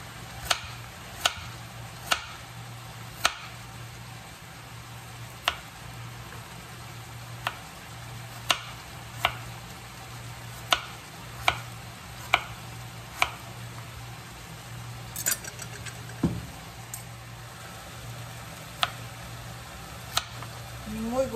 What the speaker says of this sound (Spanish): Vamos a picar las zanahorias.